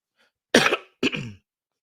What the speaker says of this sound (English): Sorry, I just clear my throat, people.